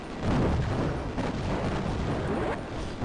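Dense gunfire and explosions in the shoot-'em-up game Raptor, a continuous loud rumble of blasts and shots without pause.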